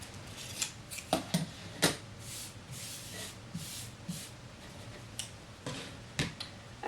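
Scissors snip through a paper applique template for an embroidery feather, giving a series of sharp, irregular cuts close up over a quiet background.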